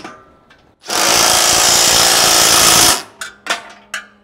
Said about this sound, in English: So now I'm gonna go ahead and get a socket and tighten everything up.